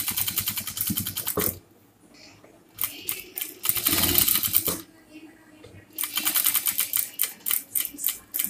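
Domestic sewing machine stitching nighty fabric in fast rattling bursts, stopping and restarting between runs, close by with short quiet gaps.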